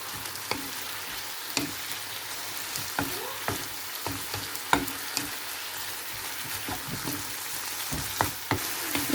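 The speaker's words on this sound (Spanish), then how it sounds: "Ahora mezclamos de nuevo y dejamos todo hasta que se cocine bien la pechuga del pollo" Chicken breast frying with spices and hot pepper in a pan, a continuous close sizzle broken by frequent sharp clicks and scrapes of a spoon stirring, with no voices.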